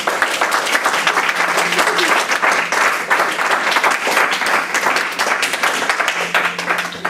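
A church congregation applauds together during a worship service, a dense, steady wash of many hands clapping at close range that holds at full strength for about seven seconds without pause.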